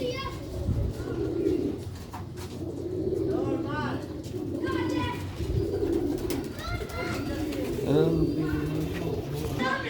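Pigeons coo repeatedly in low throaty rolling phrases close by, layered with bird chatter and background voices of people talking throughout.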